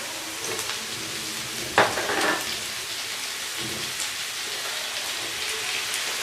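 Chicken boti pieces fry on a hot tawa with a steady, loud, rain-like sizzle throughout. A brief stirring scrape cuts through near the two-second mark.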